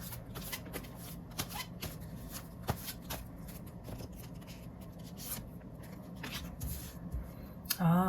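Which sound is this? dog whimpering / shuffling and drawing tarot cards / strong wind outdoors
shuffling and drawing tarot cards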